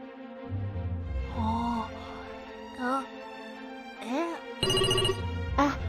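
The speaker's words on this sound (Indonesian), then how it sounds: "Seseorang sedang mencoba menghubungi kita. Ayo kita jawab." A cheerful synthesized ringtone for an incoming call in a children's educational planet game plays as a repeating melodic jingle, loud and close, in rising and falling bursts with no talking over it.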